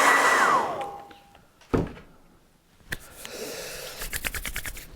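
Hair dryer blowing on a watercolour painting of a winter barn, a steady close whoosh at the start that fades, followed by a loud thump, brief clatter and rustling handling noises.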